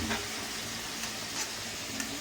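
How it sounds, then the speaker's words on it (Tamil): Tomatoes sautéing in a pan for chicken biryani give a steady moderate sizzle, with a few faint clicks of stirring. "தக்காளியை போட்டு வதக்க போகிறோம்."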